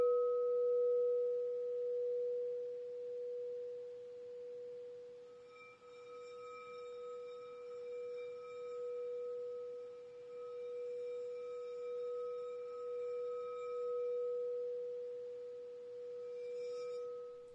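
Frosted singing bowl with a crystalline tone rings as one long, pure sustained hum, faint and steady; brighter overtones join partway through and linger before a soft touch near the end, with no voices.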